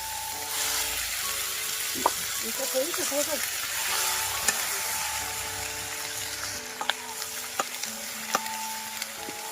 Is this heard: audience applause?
no